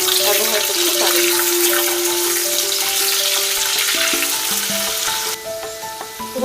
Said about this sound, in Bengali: আলু কিছুটা ভাজা হয়ে গেলে ক্যাপসিকামটা দিয়ে দিচ্ছি।